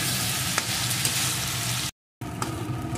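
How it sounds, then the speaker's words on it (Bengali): Spices with salt and turmeric sauté in hot oil for a vetki fish-bone chorchori, a loud, continuous close sizzle broken by a brief silent gap before frying resumes. "এখন সব কিছুকে ভালো করে কষিয়ে নেব"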